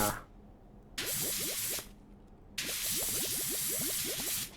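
Cleaning solution sprayed from a pressure washer nozzle in the Power Wash Simulator video game onto a golf cart, two sustained loud hissing bursts with a gap between, under quiet background game music.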